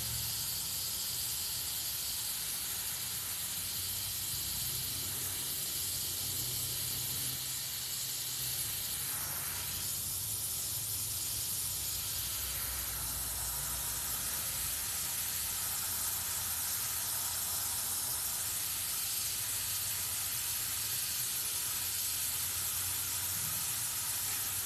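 An Iwata Eclipse airbrush sprays paint in a steady, close, continuous airy hiss that holds for the whole stretch with only slight dips, no voices over it.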